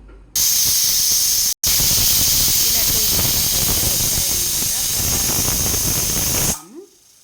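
A pressure cooker whistle, cooking a black-eyed pea and potato curry, blasts a loud, continuous jet of hissing steam for several seconds, then cuts off abruptly.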